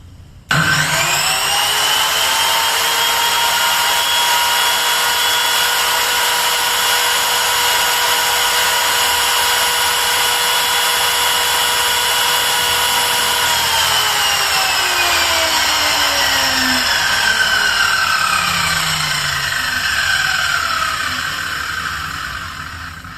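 HL 237 miter saw motor switched on and running close up at steady high speed, a loud continuous whine with a ringing tone that slowly falls as it spins down near the end.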